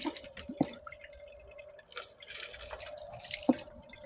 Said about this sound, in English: so I'm going to rinse it out really good